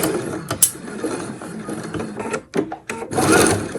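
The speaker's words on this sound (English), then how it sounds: "So I'm just going to sew along here in my seam allowance" Sewing machine stitching a seam on a felt panel bag, its motor whirring loudly in steady bursts with brief pauses and restarts, no talking.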